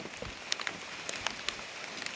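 Steady rain patters on a surface in the hills of Vazhavara, Idukki, a dense hiss dotted with sharper individual drops, with no voices.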